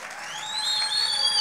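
Crowd cheering with high, sliding whoops and ululating cries at a gospel worship gathering, acclaiming God; a steady, moderately loud swell of voices that builds slightly over a second and a half.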